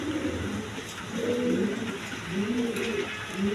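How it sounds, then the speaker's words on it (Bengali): A pair of shirting pigeons gives soft, low, repeated coos in a few rolling phrases, close and fairly quiet against a faint background hiss. "দর্শক এখানে এক পেয়ার শার্টিং কবুতর আছে"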